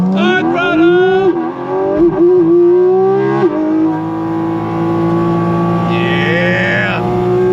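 A 2025 Porsche 718 Cayman GT4 RS engine pulls hard on throttle, loud and close, its pitch climbing and dropping through quick shifts before holding a steady high howl, with a faint squeal near the end.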